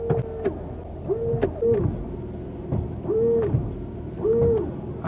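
A car's windscreen washer pump runs dry in short bursts: four brief humming whines, each starting and stopping with a slight pitch bend, spaced about a second apart, close and fairly quiet over faint background noise.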